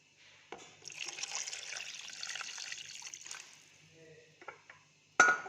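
Broth is poured into a clay-pot dish of orzo with chicken liver and gizzards, a soft, close trickle and splash lasting a few seconds, then quieter dribbles and a sharp clink near the end.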